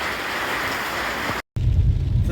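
Steady rain hisses loudly and close for over a second, then after a brief cut it turns to a heavier, rumbling wash of rain, with no talk.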